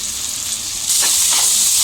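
Ginger garlic paste frying with cut vegetables in a pan for veg pulao, a steady close sizzle that grows louder and brighter partway through as the mix is stirred.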